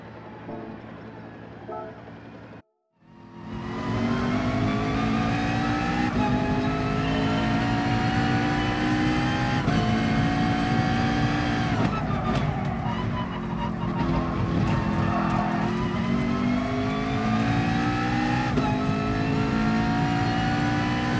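McLaren race car in GT Sport, a loud high-revving engine that roars in after a brief silence, climbing and dropping through gear changes with steady intensity for the whole run.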